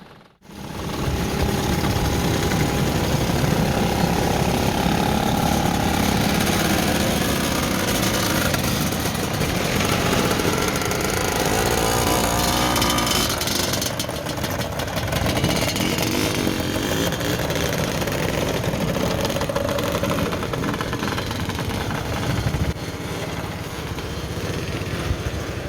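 A group of motorcycles on a St. George's Day ride out through Manchester, with loud, continuous engine drone heard up close from the back of the pack for the whole stretch.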